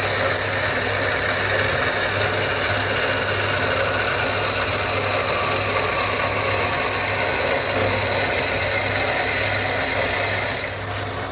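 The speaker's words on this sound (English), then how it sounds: "cutting the flat with a trusty bandsaw, a bit of lube" A bandsaw cutting thick steel flat stock for a custom Harley-Davidson Sportster twin-rail swingarm, giving a steady, loud mechanical drone with a constant low hum and a grinding rasp that runs unbroken throughout.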